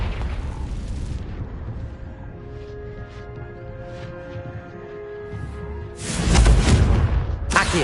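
Confringo spell explosion in the video game Hogwarts Legacy: a sharp blast at the start, a lull with soft tonal hums and small pops, then a loud booming, crackling eruption near the end.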